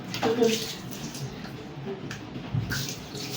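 Water splashes and runs gently during a pet dog's bath at home, in soft, uneven bursts close by with no talking.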